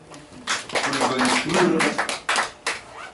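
Congregation clapping during a church sermon: bursts of sharp, fairly close applause with separate claps at the end, mixed with voices.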